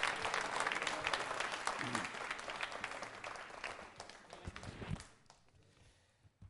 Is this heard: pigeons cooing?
no